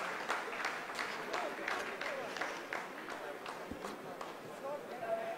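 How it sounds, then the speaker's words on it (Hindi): Scientists in a mission control room applauding after the descent phase of a lunar landing, a steady patter of many hands clapping at a moderate distance throughout, with a commentator speaking over it. "आप इस तालियों के गड़गड़ाहट को सुन सकते हैं"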